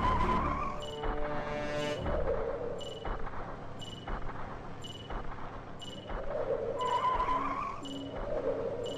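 Cars skid in the Nintendo 64 game Superman 64, with repeated screeching tire squeals and engine noise looping over a dense, continuous game soundtrack.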